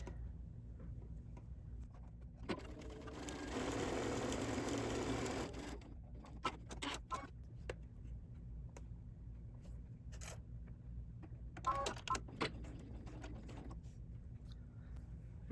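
A sewing machine quilts diagonal lines across a duffel bag, running in a steady whirring burst for a couple of seconds, then stopping, followed by scattered small clicks and handling noises and a second shorter stitching run.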